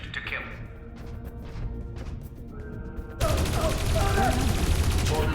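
Video game gunfire from Dreamfall Chapters, a quiet stretch of scattered hits under game speech that abruptly gives way to a dense, loud burst of continuous shooting and crashing for the last two seconds.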